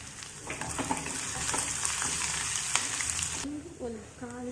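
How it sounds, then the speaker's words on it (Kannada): Cashews and finely chopped ginger sizzle in hot oil in a pan, a continuous bright frying hiss with occasional stirring scrapes; the sizzle drops away near the end as a voice speaks briefly. "ಸ್ವಲ್ಪ ಗೋಡಂಬಿ, ಎಲ್ಲನೂ ಚೆನ್ನಾಗಿ ಫ್ರೈ ಮಾಡ್ಕೊಳ್ಳೋಣ."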